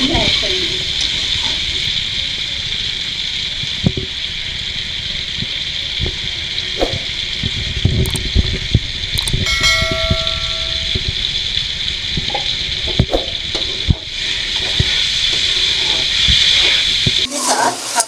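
Yogurt going into a sizzling potato and eggplant curry, a steady loud frying hiss running throughout with occasional stirring clatter and a voice talking over it.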